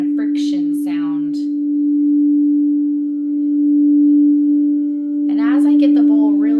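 A crystal singing bowl rubbed with a wand rings in a steady pure sustained tone with a faint wavering, bouncing friction, while a voice talks over it at the start and again near the end.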